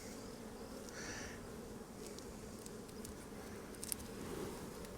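Honey bees at an open, aggressive hive make a constant faint buzzing drone, with a few individual bees passing closer with a louder whine.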